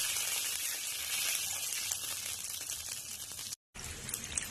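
A continuous, fairly loud sizzle as a little water hits a hot pan of fried cumin seeds, bay leaves and dried chilli, hissing steadily with a brief gap near the end.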